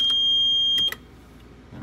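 A steady electronic buzzer tone from a Tasmota-controlled cat feeder sounds, then two short beeps follow before it cuts off into quiet background hum.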